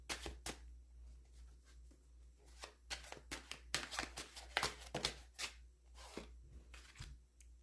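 Tarot cards shuffled and drawn by hand in a quiet room, a run of crisp riffling slaps and flicks of varying strength, close and alone without any voices.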